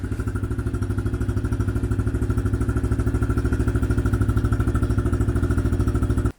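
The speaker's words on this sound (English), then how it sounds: "I'm just gonna start it up, let it warm up, and so you guys can hear what the stock pipe sounds like." A 2020 Honda CRF110F pit bike with its stock exhaust idles steadily nearby, a fast, even low thump with a faint mechanical clatter, running alone for about six seconds before cutting off abruptly.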